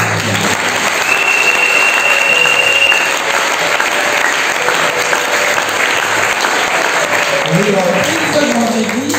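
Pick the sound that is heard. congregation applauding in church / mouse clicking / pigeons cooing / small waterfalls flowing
congregation applauding in church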